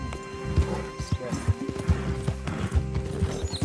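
Horse hooves clip-clop in Red Dead Redemption 2, with a whinny breaking in. Irregular heavy thuds sound close and loud over a steady in-game background drone.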